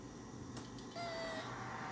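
A pet cat crying for attention indoors: a faint tap, then one clear, sustained meow that holds steady over a low background hum.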